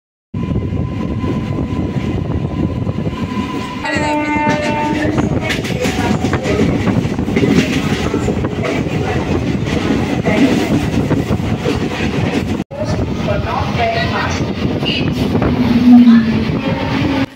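Local train from Howrah toward Khirai running beneath the Mourigram flyover, a loud steady rumble and rattle of wheels and carriages continuing throughout, with a brief break near the end before the roar resumes.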